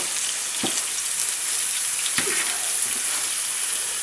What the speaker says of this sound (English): So let me just cook these mushrooms, cooking them at a medium-high heat.